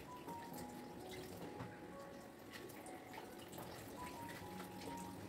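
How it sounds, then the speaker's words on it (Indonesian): Vegetables and chili paste ingredients being washed under running tap water, a steady faint splashing stream with small drips throughout. "Jadi buat lalapan sama tadi bahan sambalnya aku cuci."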